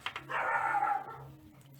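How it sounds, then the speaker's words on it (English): A single short dog bark, fairly close, followed by a fading tail and quiet background. "If you can hear the dogs barking in the background"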